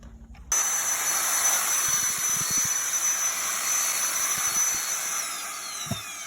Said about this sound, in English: So when we've got a whole barrel and just a paddle mixer